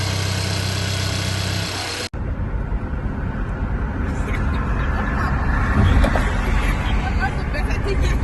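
A car engine idles steadily after a PCV valve replacement, giving a close, even low rumble with a faint mechanical hum that follows a sudden cut.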